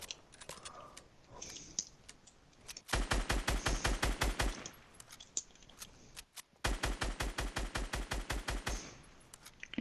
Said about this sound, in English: Dude, I'm just randomly shooting now.